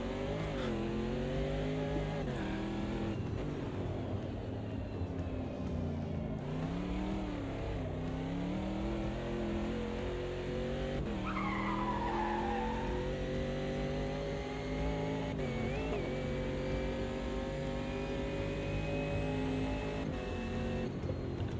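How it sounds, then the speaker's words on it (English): A GT4 race car in a racing video game, its engine steadily rising and falling in pitch through gear changes, with a thin high whistle riding above the engine note throughout; no voices. "Has this GT4 got a supercharger fitted? That's what it sounds like. It might be just the transmission. But there's a distinct whistle"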